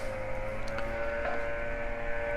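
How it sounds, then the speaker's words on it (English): A leaf blower clearing dead leaves runs outside in the neighborhood, producing a steady, moderately loud droning whine that continues without a break behind the quiet room. "neighbors are cleaning dead leaves, which they use a blower"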